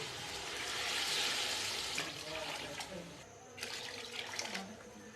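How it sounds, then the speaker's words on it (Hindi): Water pouring steadily into a cooking pot of rice for green chickpea pulao, a rushing splash that swells and then settles, with faint clinks near the end. "अब पानी डालेंगे चावलों के हिसाब से।"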